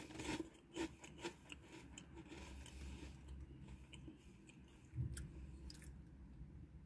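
Crunchy chewing of CC Chips Cornados corn chips, close to the mic, with irregular crisp bites and softer mashing between them, fairly quiet and with no talking.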